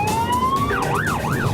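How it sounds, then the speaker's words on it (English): A police siren rises in a long wail, then switches to a fast warbling yelp, loud and nearby over traffic rumble. "They like to chase after them, with sirens blaring and lights flashing."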